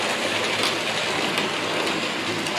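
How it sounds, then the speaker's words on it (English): A glossy Lima Class 52 Western model locomotive pulling coaches runs around a layout track, giving a steady, close rolling rumble with a faint rhythmic clatter from the wheels. "coming around now on track 2 is my Lima Class 52 Western that I gave a gloss"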